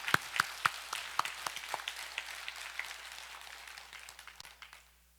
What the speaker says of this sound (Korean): 믿는 분들은 주님께 감사의 박수 드립니다.